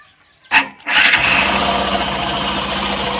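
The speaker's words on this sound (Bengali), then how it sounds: "বাইকটি স্টার্ট দিয়ে দেখবো" A motorcycle engine cranks over with a short burst, catches on a second try and settles into a steady, loud running drone close by, with no talking.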